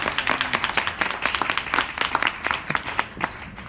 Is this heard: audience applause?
yes